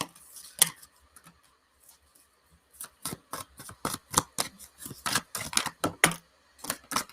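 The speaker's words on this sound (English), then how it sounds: "Your cards are flipping already, and I didn't even shuffle yet." Tarot cards flip and slap down during a live card reading, a quick run of crisp clicks and snaps coming irregularly and then in faster clusters, close by and with no talking.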